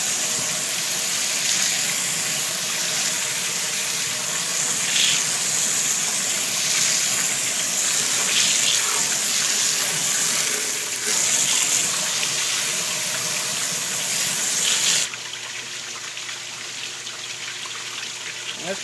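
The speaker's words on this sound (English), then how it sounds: "I'll just take the hose that I have conveniently located right here." A garden hose sprays a steady broadband rush of water down an open drain during a Cetus Sieve drain test, close and continuous, then cuts to a quieter, thinner flow for the last few seconds.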